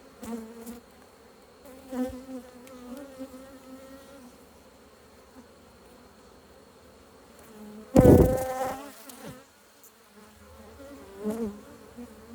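Honey bees buzz steadily around open beehive frames during a colony inspection, a close droning hum with wavering pitch that swells to a loud burst as bees fly near, with no talking.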